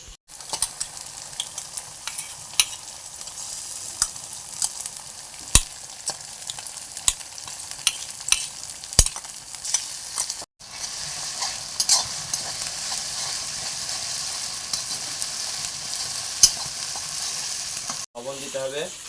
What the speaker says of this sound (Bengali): এবার পেঁয়াজগুলো ভাজা প্রায় হয়ে গেছে, এবার এর উপর মশলাটা দিয়ে দেবো।